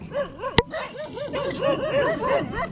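Several dogs bark and yip nearby in quick, overlapping bursts, with whimpering howls and a sharp knock early on, at a shore fishing spot in the Philippines.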